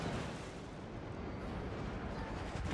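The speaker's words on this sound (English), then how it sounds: "See, the enemy ships are shooting at us" In World of Warships, enemy naval gunfire pounds the ship as a continuous heavy, booming rumble with no clear gaps, loud and close, and no voices over it.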